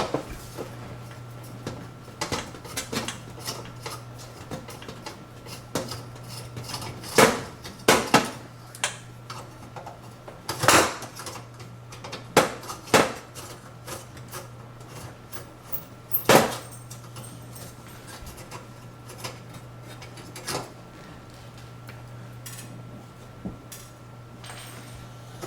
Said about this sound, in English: take off the screws to the igniter here